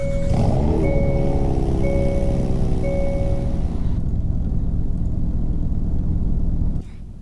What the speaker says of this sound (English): that was the startup of the Elantra, and I think it's a really good startup